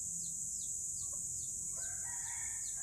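A rooster crows faintly in the distance, with a short call partway through and a longer crow near the end over quiet outdoor ambience.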